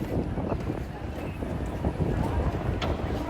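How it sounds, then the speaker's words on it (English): Steady, buffeting wind roars across the microphone outdoors on a cruise-line island, loud and continuous for the whole stretch, with no voice. "the wind is gonna get a bit better"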